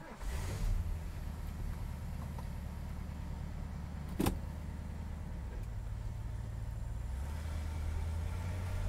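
A 1974 Mercury Marquis Brougham's engine runs steadily with a deep, even low rumble close by, broken by one sharp click partway through; no one speaks.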